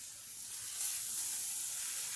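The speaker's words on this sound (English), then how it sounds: "We're just going to stir this up." Chicken burrito filling in a pan, cooking over a stove, gives a quiet, steady hiss of sizzling that holds even from start to finish with no voices.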